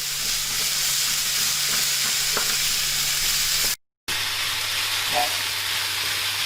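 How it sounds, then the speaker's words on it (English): Meat browning in a pan for Guinness hot pot, a steady close sizzle and hiss that runs throughout, broken once by a brief dropout. "I'm browning these down, cooking them off a bit"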